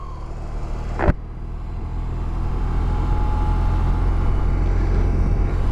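A BMW R 18 motorcycle rides along with a steady, loud engine drone and road noise, broken by one sharp click near the start that fits a gear shift.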